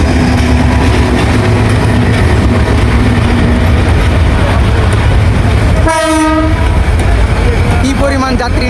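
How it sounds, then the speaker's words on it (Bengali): A passenger train packed with riders arrives with a loud, continuous rumble of wheels and carriages close by, broken by a long horn blast and then a shorter toot near the end. "কি পরিমাণ যাত্রী নিয়ে ট্রেনটা চলে আসছে।"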